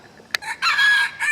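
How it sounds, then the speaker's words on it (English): Free-ranging Bantam chickens on a homestead crow and cluck close by, with a sharp click followed by a short call and then a long, loud crowing phrase, outdoors with no talk. "the noisy Bantam chickens that are free ranging out here"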